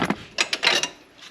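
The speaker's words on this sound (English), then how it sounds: "I'm probably going to have to use a ratchet on that one over there." A short run of quick ratchet clicks turning a bolt inside a van during a USB power adapter install, close and fairly crisp with no talk.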